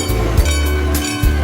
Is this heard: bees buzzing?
no